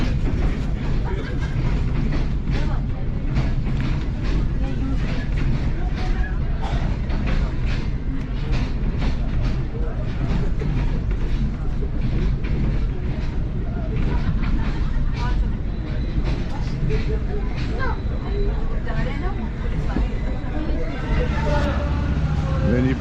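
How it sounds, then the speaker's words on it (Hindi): Steady rumble of the Tezgam passenger train rolling through a railway station, loud and continuous for the whole stretch, with crowd babble and passing voices mixed into the clatter. "तो ये ट्रेन अभी घंगरीला रेलवे स्टेशन से पास थ्रू हो रही है"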